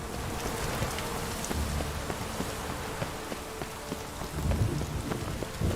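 Steady heavy rain with low rumbling thunder in The Witcher 3 video game, a continuous dense wash of rainfall swelling toward the end, no speech.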